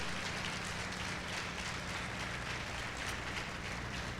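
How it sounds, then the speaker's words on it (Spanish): Sustained applause from a large church congregation, a dense, steady wash of clapping that holds without pause. "Dale ese fuerte aplauso al que vive"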